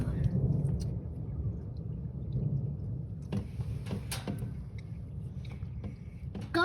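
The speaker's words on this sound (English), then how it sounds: "Guys, there's thunder and lightning here today." Low thunder rumbles through a thunderstorm, a deep rolling growl that fades and then returns more faintly, with scattered clicks and knocks nearby.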